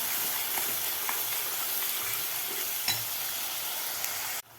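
Spice masala sautéing in a pan for chicken curry, a steady close sizzle and hiss with occasional stirring scrapes, cutting off abruptly at the end.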